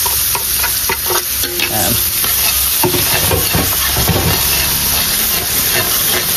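Garlic and onion sizzle and fry steadily in a pan for beef callos kare-kare, a loud constant hiss with stirring scrapes. One brief spoken word is heard.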